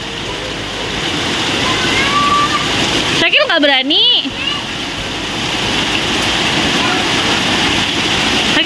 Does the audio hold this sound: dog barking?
no